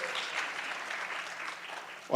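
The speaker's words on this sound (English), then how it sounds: "You can applaud him, it's okay" Audience applause at a live community event for a refugee support partnership, a steady wash of clapping held at moderate level for about two seconds before ending in a sharp loud burst.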